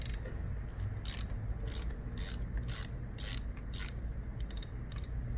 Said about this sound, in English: So you're gonna need a 10mm socket, also with a ratchet handle.